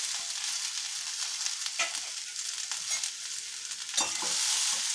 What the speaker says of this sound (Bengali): তার সঙ্গে কুচানো পেঁয়াজ দিয়ে দিচ্ছি কিছুটা।